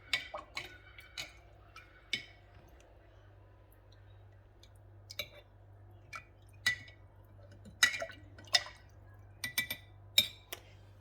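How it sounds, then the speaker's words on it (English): Spoon stirring a ginger bug starter in a glass jar after a tablespoon of sugar goes in: sparse, light clinks and faint liquid swirls, quiet and close, over a low steady hum. "Give that a bit of a stir."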